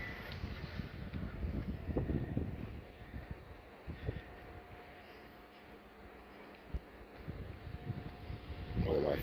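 Steady wind buffeting and rumbling across the open helipad deck of the cruise ship Voyager of the Seas, with low broadband roar and occasional gusts, a faint hum in the background.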